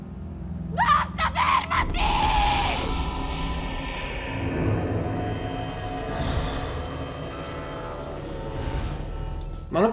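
A character in the video game Murdered: Soul Suspect screams in a clinic level. Several sharp, loud shrieks are followed by sustained yelling and a noisy, rumbling game soundscape.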